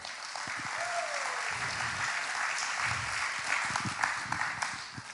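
A church congregation claps their hands during a sermon, a sustained wash of applause from many people at moderate distance, with a few louder individual claps and faint voices underneath.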